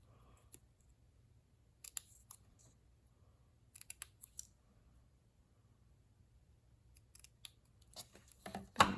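Small scissors snip card stock and paper for handmade card making. Quiet, scattered crisp cuts and clicks come in short bursts against a near-silent background, with a louder rustle at the end.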